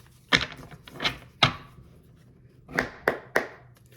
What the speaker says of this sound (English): So I could at least shuffle properly.